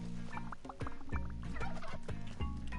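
Turkeys gobble in the Spelunky 2 video game, a run of short warbling calls repeating over a busy, loud game soundtrack.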